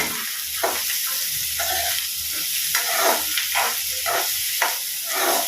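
Beans, carrots and green chillies fry in oil for egg fried rice, a constant sizzling hiss broken by repeated scraping stir strokes at a steady pace.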